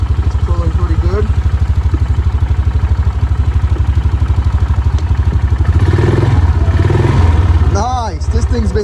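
An all-terrain vehicle's small engine idles steadily with a rapid, even putter throughout, growing a bit louder near the end as voices briefly talk over it.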